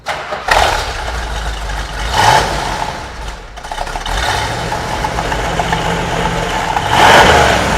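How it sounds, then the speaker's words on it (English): A Plum Crazy car is cranked on a classic battery and starts, its engine catching and revving in loud bursts before settling into a rough, rumbling idle close by. "let's go ahead and get her fired up"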